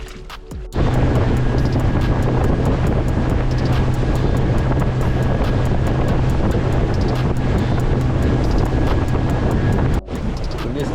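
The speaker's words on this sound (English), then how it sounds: "We just started cruising back in from that reef." Boat cruising back in from a coastal reef through choppy water whipped up by a strong northerly wind: a loud, steady engine drone with constant wind buffeting and water rush throughout, no talking.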